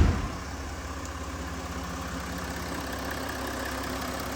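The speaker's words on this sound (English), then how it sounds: "I'll leave it running actually. It's a lovely smooth engine" A Jaguar F-Pace 3.0 V6 diesel idles steadily and smoothly, a low even engine hum with a faint knocking texture, heard alone and close with no talking.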